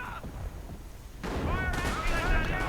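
Booming artillery-style blasts with crackling rumble in a game soundscape, the noise swelling louder halfway through and staying dense to the end.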